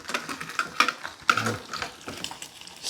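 Slices of luncheon meat fry in a pan, giving a close, crackling sizzle broken by sharp scrapes and clinks from a utensil turning the pieces, with no voices.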